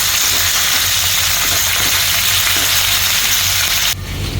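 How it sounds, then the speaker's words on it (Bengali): Ginger garlic paste sizzling in hot oil for a Thai fish dish, a loud dense continuous hiss of frying that drops off sharply near the end, with no talking. "আমি এখানে আদা রসুনের পেস্ট দিয়ে দিলাম"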